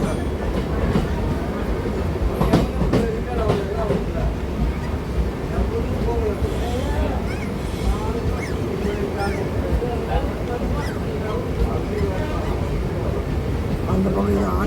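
A Chennai circular passenger train rumbles past close by near Ambattur station, with steady rattling and clattering over the rails, loud and continuous throughout.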